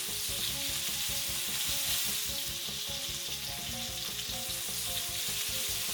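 Chopped tomatoes hit hot oil with onions in a pan for kadai paneer, a loud, steady sizzle and crackle with stirring scrapes mixed in.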